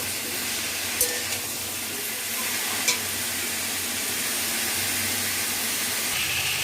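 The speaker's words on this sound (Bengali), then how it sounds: "সবজিগুলোকে ভাজা ভাজা করে নিচ্ছি একটু।" Continuous close sizzle of vegetables frying, broken by a couple of sharp clinks of a utensil stirring against the pan.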